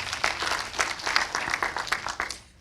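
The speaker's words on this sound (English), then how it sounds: "A round of applause for her, please." An audience at a business talk event applauds a speaker taking the stage: a short burst of dense clapping at moderate volume that tails off at the end.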